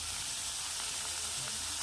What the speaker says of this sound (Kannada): ಟೊಮೊಟೊ ಫ್ರೈ ಆಗ್ತಿದೆ